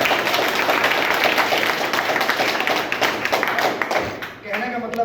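Dense clapping from a meeting audience fills the hall, loud and steady before thinning out near the end, with a voice briefly audible through it.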